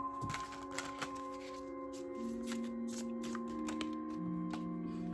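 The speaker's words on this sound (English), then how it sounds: "now I'm going to pull an oracle card for myself today" Oracle cards shuffled by hand in quick riffling bursts, a soft papery flutter repeating rapidly and close, over a quiet room with a steady low hum and no talking.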